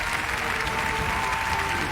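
Warm, sustained applause from a concert audience at a legendary American singer's show, a thick continuous roar of clapping with a faint tonal hum beneath it.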